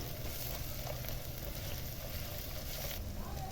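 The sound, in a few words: onions frying in oil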